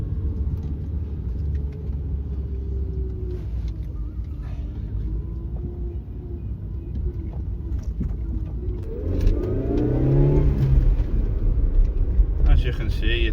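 A small, cheap 1-litre city car accelerating, its engine drone rising in pitch and loudness toward the end over constant road rumble heard from inside the cabin.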